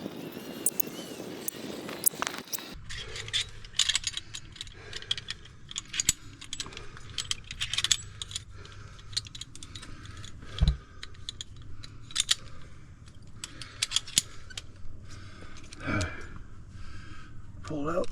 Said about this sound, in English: I'm about to start pulling up slack and flaking out.